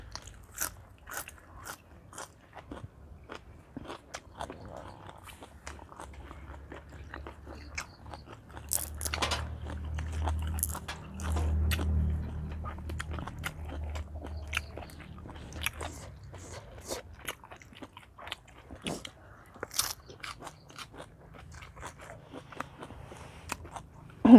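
Spicy squid salad with tiny baby cuttlefish is eaten up close outdoors beside a pond, with wet crunchy bites and chewing repeating irregularly throughout and a louder stretch of chewing in the middle.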